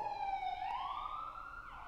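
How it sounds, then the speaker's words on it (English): A faint siren wails at a distance, its pitch sliding slowly upward as it passes by. "Another siren just went by."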